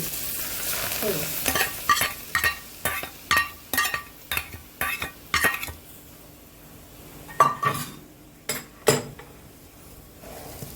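A spoon scrapes rhythmically through poha in a pan over a sizzling tempering, about a dozen sharp stirring strokes, a pause, then a few more scrapes against the metal.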